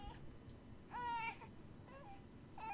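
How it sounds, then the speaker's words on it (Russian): In the horror game Hotel Remorse, an infant cries in short whimpering wails, one louder sob in the middle and fainter ones after, over a low dark ambient hum. "И плач ребенка."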